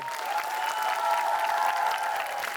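A television studio audience claps continuously during a school cup-stacking contest, a dense, even wash of applause that holds steady throughout.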